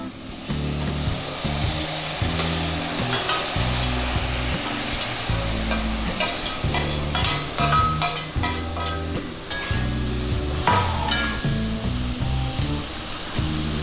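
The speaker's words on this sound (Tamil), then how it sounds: "இப்போ தக்காளி சேர்த்துக்கலாம்." Tomatoes frying with spice masala in oil for a Tamil tomato curry (thakkali kulambu), a steady close sizzle broken by repeated stirring scrapes and knocks, with no talking.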